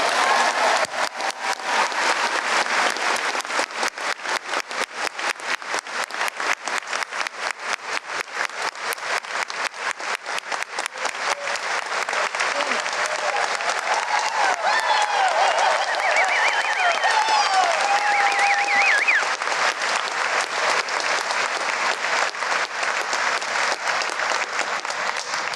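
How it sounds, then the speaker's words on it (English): Sustained, dense applause from a large audience at a high school senior awards night, loud and steady throughout with no pauses. "Please give a big round of applause for Mason Pellegri."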